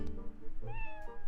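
A single short cat meow from the video game Twilight Princess, fairly soft and clear, with no talking over it.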